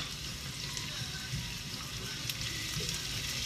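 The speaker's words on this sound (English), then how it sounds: "Onions always take so much longer to caramelize than they ever tell you." Onions frying and caramelizing in a pan, a dense continuous sizzle held steady and close with faint scraping now and then.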